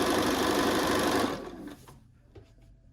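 A sewing machine stitches quilt blocks for a sunflower window hanging, running loud and steady for over a second before slowing and stopping, followed by faint handling noises.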